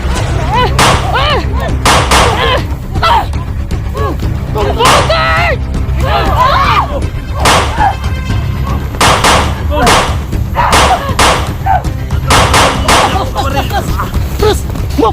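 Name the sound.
gunfire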